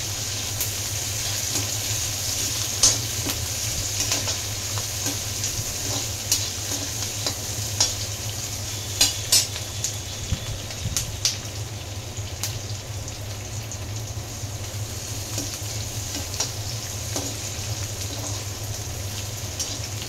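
Cashews and onion frying in a pan, with a steady crackling sizzle throughout, irregular stirring scrapes and a few sharp pops, close and fairly loud with no voices.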